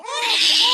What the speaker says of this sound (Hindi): दोनों बच्चे बहुत जोर जोर से रो रहे थे।